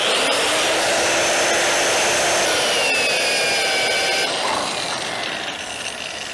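A power tool cuts a groove into thick metal for a log splitter's wedge support, producing a loud, close, continuous grinding roar with shifting whining tones that eases slightly toward the end.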